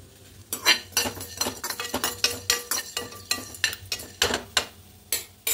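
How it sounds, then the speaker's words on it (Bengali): A spatula stirs and scrapes whole coriander, fennel and pepper as they dry-roast in a pan, making a steady run of close, loud metallic clinks and scrapes with no talk. "এটাকে খুব ভালো করে একটু হালকা নাড়াচাড়া করে ভেজে নেব"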